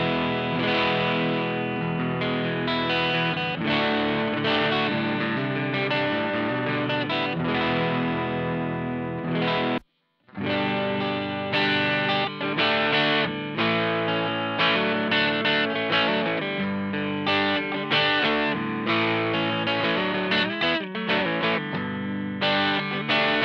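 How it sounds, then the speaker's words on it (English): Chords strummed on a custom Jackson electric guitar through its neck pickup alone, distorted with effects, ringing continuously for over twenty seconds with one short break midway. "I'm going to start with just the neck pickup by itself and play just some chords so you can hear what this guitar sounds like"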